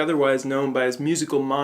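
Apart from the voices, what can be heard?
None of the usual background noises is heard.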